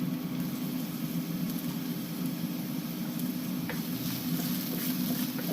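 Garlic and then ginger sizzle and fry steadily in hot oil in a pan, a continuous close frying hiss with a few faint stirring scrapes, no voices.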